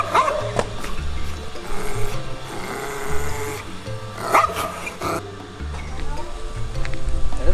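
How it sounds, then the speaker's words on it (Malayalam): A dog barking in a rural outdoor setting, short barks heard amid rubbing and scraping noises and ongoing talk. "എന്താണ് അവിടെ ഒരു പട്ടിയുടെ ഒച്ച കേട്ടത്?"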